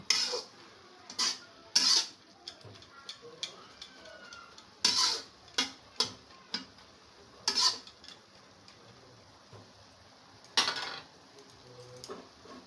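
A spoon stirring water spinach and potato curry in a pan, several sharp scraping clatters spaced irregularly over a soft low sizzle, close and fairly quiet between strokes.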